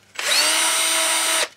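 A 2.5 millimeter drill bit spins up close to enlarge a small hole, giving a single loud, steady whine lasting just over a second before stopping abruptly.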